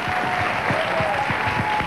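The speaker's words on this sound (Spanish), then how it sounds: "Un gran aplauso para Jerry." A studio audience applauding on a Spanish-language variety show, steady dense clapping mixed with crowd noise and a faint whistle-like tone over it, continuous and moderately loud.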